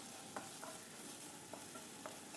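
Chopped okra fries in coconut oil in a frying pan, a faint steady sizzle broken by a few soft scraping stirs, with no voices.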